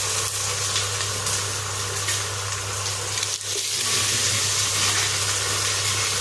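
Eggplant and mixed vegetables fry in a pan for sambar, giving a steady, loud, close sizzle that runs throughout with a brief dip midway and no talking.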